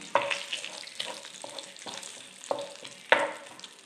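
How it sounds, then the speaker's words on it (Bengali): Garam masala and bay leaves tossed into hot oil, a quiet sizzle broken by a few sharp crackles and pops spaced about a second apart, no voices. "এবার এই তেলেই আমি গরম মশলা আর তেজপাতা ফোড়ন দিয়ে দেব।"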